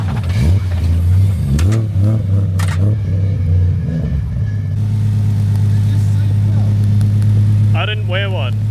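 A turbocharged Barra-engined R33 Nissan Skyline drives off on its first test run, its engine droning low and loud with rising revs throughout, while people talk over it.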